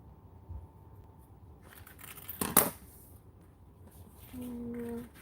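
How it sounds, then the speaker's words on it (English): Scissors snip through fabric during a sewing session, a short close crunching cut or two in the middle of a quiet room, followed by a faint tonal hum. "I gotta trim this down just a tiny bit"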